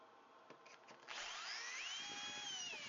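A power drill with a pocket hole jig cutter bores into 17–20 mm plywood, whining loud and steady after a few brief starts. No voices are heard.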